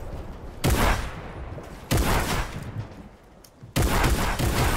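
Three sudden bursts of rapid gunfire in Fortnite, each a loud volley that trails off, separated by short gaps with no talking.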